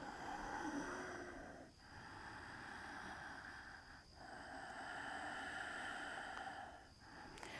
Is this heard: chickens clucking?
no